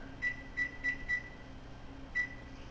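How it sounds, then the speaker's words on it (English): A homebrew kitchen timer gives four quick beeps in a row as it is set, then after a pause a fifth, single beep; the tones are short, close and fairly quiet over a faint background hum. "Okay, so we got the timer going."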